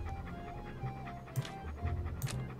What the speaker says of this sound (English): What a ferocious looking dog.